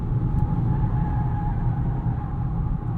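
A 2022 Polestar 2 Long Range single motor electric car drives along with a steady low road rumble and soft hum heard from inside the cabin, constant and unbroken, with no talking.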